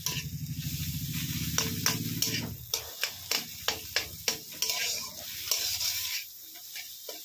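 Potatoes stirred with chilli and turmeric powder in a pan: a low hum at first, then a run of quick scraping strokes of a spoon over a soft sizzle.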